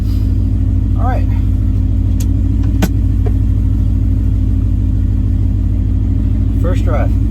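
A car with a swapped-in Coyote V8 drives along, giving a loud, constant low engine rumble and drone close up, with brief voices heard over it.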